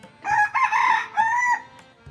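A free-ranging desi chicken on a farm gives one loud, drawn-out crowing call in two long phrases, close to the microphone, with no speech.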